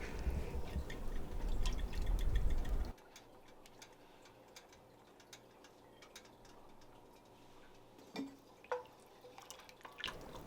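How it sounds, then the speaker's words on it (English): Thick, gelatinous chicken broth pours into a pot in a heavy rush lasting a few seconds, followed by sparse drips and soft plops as the flow trails off. "Now we're going to add about 6 cups of very gelatinous broth going in here."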